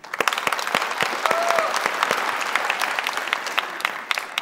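Studio audience clapping on the Afghan game show Ro Dar Ro (Family Feud), a bright, sustained round of applause with sharp individual claps standing out, fairly close and loud throughout.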